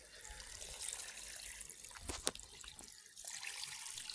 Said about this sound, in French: De préférence ici vous ajoutez l'eau chaude